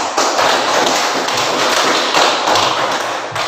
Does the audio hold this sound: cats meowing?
no